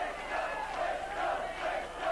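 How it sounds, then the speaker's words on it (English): Darts fans of Eric Bristow and Dave Whitcombe cheer a finish at the 1984 Embassy World Championship final, a dense, steady wall of crowd roar and shouting that swells slightly and holds throughout. "the Whitcombe fans and the Bristow fans cheering that finish there at Whitcombe"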